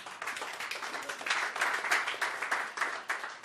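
A church congregation claps and applauds steadily throughout, with a dense, sustained wash of hand claps rising slightly in the middle and no speech over it.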